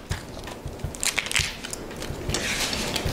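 The outer skin is peeled off a halved yellow onion, making close, crisp crackling and rustling with small papery snaps.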